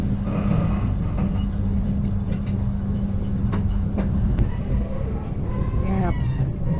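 Interior of the KA Malabar passenger train on the southern Java line between Bandung and Solo, a steady loud low rumble of the running carriage with occasional clicks and faint voices beneath.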